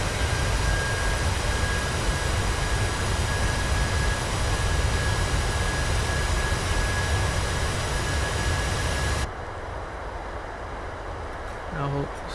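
A PMDG 737 brakes on the runway after landing in the MSFS2020 flight simulator, giving a loud, dense, continuous roar of engines and rollout that drops abruptly to a much quieter hum near the end.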